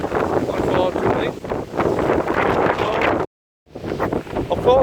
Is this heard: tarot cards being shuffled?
no